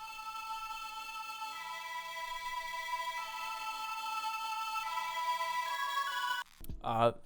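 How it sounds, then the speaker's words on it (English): A soft, sustained synth pad holds layered chords that shift slowly, fairly quiet, in a rage-style hip-hop beat, before a brief burst of talking at the end. "Then I have this pad sound right here, which is just meant to layer and make the chords sound wider."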